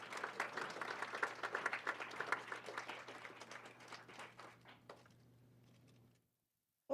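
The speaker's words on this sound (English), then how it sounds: "And if we could have a round of applause for that group." Applause from a board of education meeting audience for student award winners, moderately loud scattered clapping that thins out and fades to silence after about six seconds, with a brief sound at the very end.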